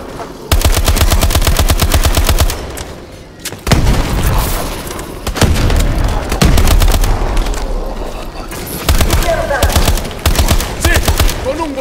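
Rapid automatic gunfire from Call of Duty: Advanced Warfare, loud bursts of machine-gun fire with booming shots stretching across the whole stretch, brief pauses between volleys, a voice shouting now and then.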